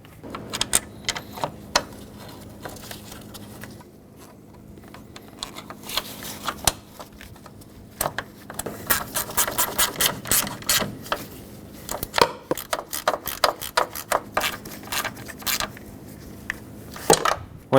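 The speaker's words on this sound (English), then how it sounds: "Let's reattach the radiator by putting on these mounts again. Make sure they line up and start in the bolts." A ratchet clicks while tightening radiator mount bolts threading into plastic on a 2011-2016 Ford F-350 with a 6.2L V8, irregular bursts of rapid close metallic clicking with short pauses between runs.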